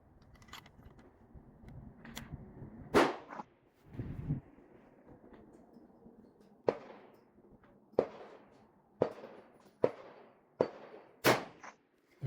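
Rifle shots on an F-TR F-Class range at 1000 yards in windy conditions, a series of sharp, crisp reports spaced a second or two apart over a low, steady background of wind.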